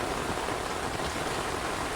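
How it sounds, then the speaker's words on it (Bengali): Heavy rain pours down in a village, a dense, steady, loud hiss of falling water with no pauses. "পুরো বৃষ্টিতে একাকার একেবারে।"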